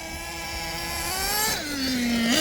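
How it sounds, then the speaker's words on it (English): A nitro RC car engine being heat-cycled during break-in revs steadily, its pitch climbing, then dropping sharply and settling before rising again. It is moderately close and continuous, with no talk. "now we're kind of heat cycling the motor"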